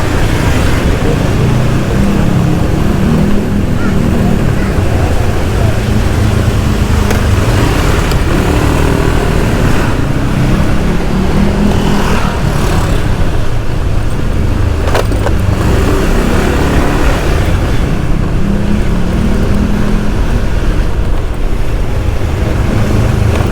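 Continuous motor traffic on a busy village road in Sawangan, Depok, where motorcycles pass nonstop. Engines rumble loud and close for the whole stretch, with no talk.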